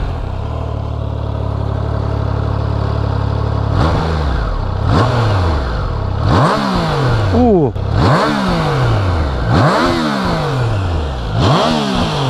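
Triumph Trident 660 three-cylinder motorcycle starting and riding off: a steady idle, then repeated sharp revving surges that rise and fall through gear changes, loud and close, with a rider speaking briefly.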